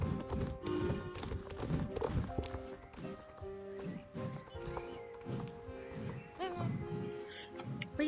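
Hooves clip-clop in a steady trotting rhythm as a horse is ridden in a Halloween quest in the online game Star Stable, with game music and tones layered over the repeated hoofbeats.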